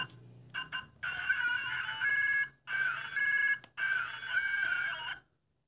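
A kids' toy telephone plays an old-style mobile phone ringtone, a loud, bright electronic melody in several segments broken by brief pauses, ending abruptly, preceded by a few quick button clicks.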